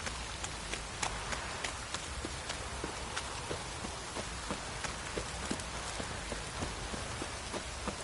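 Steady rain pouring in The Witcher 3 video game, a dense, continuous hiss of drops on the ground with faint rhythmic hoofbeats of a horse running beneath it.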